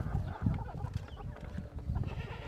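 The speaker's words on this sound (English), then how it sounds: "the grass will grow like you can't believe because it's on chicken moor" Goats and chickens on a small off-grid mixed farm in dry land, a low mix of bleats and clucking murmurs near and far, continuous and fairly faint.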